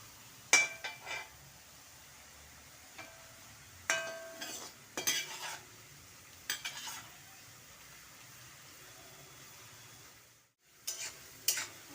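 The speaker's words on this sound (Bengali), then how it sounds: "বন্ধুরা, একটু সময় নিয়ে ধৈর্য ধরে আলুগুলি ভাজতে হবে, তাহলে খুব মুচমুচে হবে।" Potatoes frying in oil for crispy fries, heard as a faint sizzle under sharp clinks and scrapes of a utensil stirring in the pan, coming in short bursts with quiet gaps and no talking.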